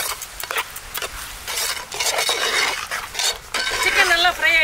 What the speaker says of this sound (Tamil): சிக்கன் நல்லா ஃப்ரை ஆகிட்டுருக்கு.